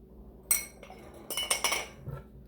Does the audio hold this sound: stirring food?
yes